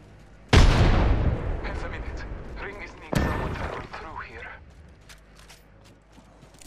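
A frag grenade goes off in an Apex Legends match: two heavy booming blasts about three seconds apart, each loud and close, followed by a long decaying rumble and some mechanical clatter, with faint voice in the background.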